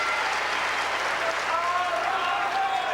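Applause from a tennis crowd at the US Open men's match, a dense, steady clapping that fills the whole stretch with a faint commentator's voice running underneath.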